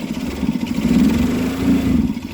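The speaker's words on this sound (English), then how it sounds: "this will rev the engine" A cherry picker's engine revs steadily, a droning mid-pitched roar that swells slightly and holds, close by with no voices.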